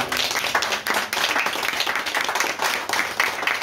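A crowd applauds steadily, dense overlapping claps filling the room for several seconds with no talking.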